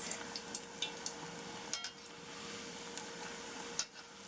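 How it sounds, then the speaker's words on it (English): Doubles dough frying in hot oil gives a soft, continuous sizzle with light crackles and a few stirring or handling clicks, fairly quiet and without talk. "So my oil is really heated, and I'm just going to place the dough that I've just spread out."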